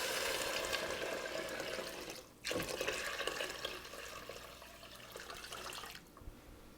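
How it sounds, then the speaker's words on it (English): Water pours into a soup pot holding beans, a steady splashing fill that briefly dips and resumes, then eases off near the end; close and moderately quiet. "then I'm going to add 8 cups of water"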